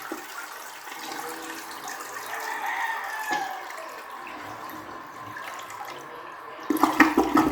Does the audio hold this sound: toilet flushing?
yes